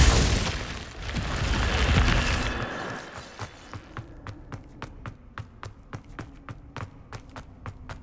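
Icy spell cast in Hogwarts Legacy, a dense rushing burst of frost that fades into a quick run of sharp, evenly spaced crackling ticks, close and fairly loud.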